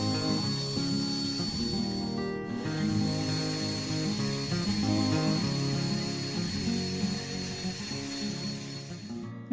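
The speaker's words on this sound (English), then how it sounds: "So I'm going to use the fiber discs on my drill." A drill fitted with fiber sanding discs works the blades of 80-year-old Wiss shears, a continuous loud abrasive whir and rasp with a brief dip in tone partway through.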